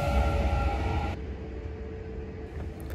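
Kintetsu Series 21 electric train at Imazato Station, a steady loud rumble of running gear and motors with a high whine that cuts off partway, leaving a lower rolling hum close by.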